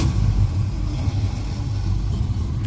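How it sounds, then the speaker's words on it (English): A '56 Chevy engine that starts hard churns and rumbles loudly at close range, a rough, uneven low-pitched running sound with no voices. "Starts hard, man. Yeah, it's a hard starter."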